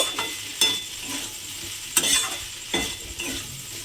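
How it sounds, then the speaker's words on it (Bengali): A spoon stirs potato and pointed gourd curry with whole poppy seeds in a pan, giving several close, scraping strokes over a soft sizzle, with no talking. "দিয়ে আবারও কিন্তু খুব ভালোভাবে এটা আমি মিশিয়ে দেব"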